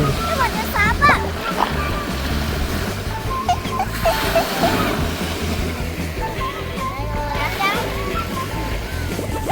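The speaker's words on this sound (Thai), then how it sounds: "แล้วเราก็เทน้ำลงไปๆ" Water is poured into a hole dug in the sand on a beach at Krabi, Thailand, splashing and sloshing nearby while children and adults talk over it.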